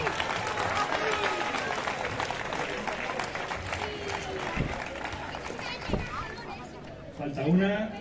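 Crowd applause at an outdoor award ceremony for a village road race in Monleras, a moderate, steady clapping mixed with chatter and murmuring voices, fairly distant, with a few louder sounds near the end.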